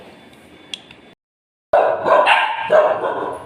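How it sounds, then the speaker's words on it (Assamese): A dog barks loudly and close by in a short burst of sharp barks after a moment of near silence. "ইয়া কোনোবা আৱাজ কৰিলে এনেধৰণে ভুকিব"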